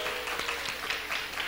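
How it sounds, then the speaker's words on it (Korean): An audience at a church gathering applauds after a young drummer's first performance, a brief steady wash of clapping at moderate volume. "박수 한번 쳐주세요"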